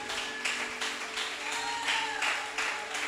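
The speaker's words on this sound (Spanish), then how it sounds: "Denle un aplauso al que es grande." A church congregation applauds during a sermon with steady rhythmic clapping under a sustained hum, moderately loud and ongoing through the moment.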